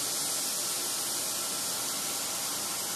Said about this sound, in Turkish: Kuzu göbeği mantarın suyunu salıp çekene kadar kavruluyor.